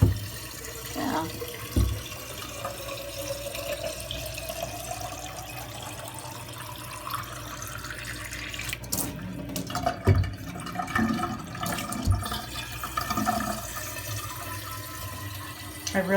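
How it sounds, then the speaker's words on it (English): A 40-ounce water bottle fills from a running tap, the pitch of the pouring water rising steadily as the bottle fills, with a few knocks and bumps of handling at close range and no talking. "I can fill my water bottle."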